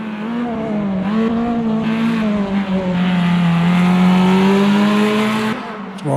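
A race car engine on the Hockenheim circuit revs hard and climbs steadily, loud and close, with a brief lift near the end before it picks up again, and no voices.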